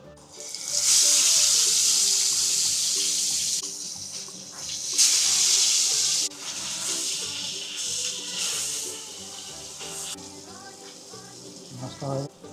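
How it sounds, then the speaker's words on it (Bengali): Fish frying in hot oil for a Bengali mustard fish curry, a loud steady sizzling hiss that comes in surges and fades, with spattering crackles and a brief louder burst near the end. "এবার চলো মাছ ফ্রাই করি"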